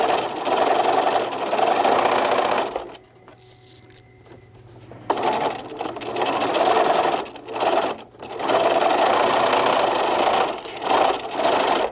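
Sewing machine top stitching fabric on a travel tissue holder runs in loud, fast bursts, stopping for pauses between the runs of stitching, recorded up close.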